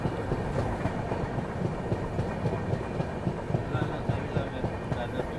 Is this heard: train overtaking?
yes